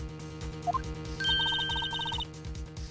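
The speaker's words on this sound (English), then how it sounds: "That's my phone." A phone rings with a repeating electronic bell pattern, bursts of rapid chimes in regular groups after a short rising tone, clear and close over a faint background hum, with no talking.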